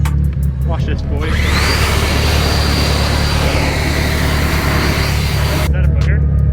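An Ego 650 CFM electric blower drying a freshly washed car spins up with a rising whine into a loud, steady roaring rush of air close by, then cuts off abruptly near the end.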